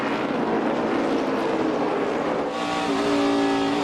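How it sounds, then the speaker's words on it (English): NASCAR stock cars racing at Watkins Glen roar past in a loud, continuous engine drone, with the pitch shifting as the cars accelerate through the carousel section. "Here's Ambrose all over the back bumper of Gordon for a second"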